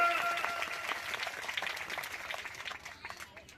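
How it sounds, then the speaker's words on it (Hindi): A crowd at a public gathering addressed by a local MLA claps, starting loud and thinning out over a few seconds into scattered claps, with speech underneath. "उसके लिए आपको जोरदार ताली बजा दीजिए एक बार।"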